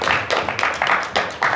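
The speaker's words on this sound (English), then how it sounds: "please give a round of applause" A small gathering at an eco village claps in a loose, uneven round of applause, with a few distinct bursts of hand claps standing out at close range.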